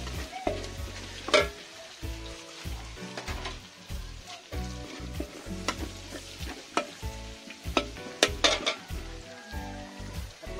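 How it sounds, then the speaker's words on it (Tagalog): Onions sautéing in a pan for a Filipino gisa, a steady close sizzle broken by repeated scraping stirs and clinks of the utensil, with no voices. "simulan na natin maggisa. Sibuyas."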